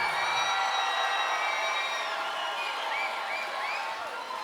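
Crowd at an Elevate Fight Night bout between Fowler and Gablesberg bursts into sustained applause with cheers and whoops, a loud, dense clapping wash that holds steady for several seconds.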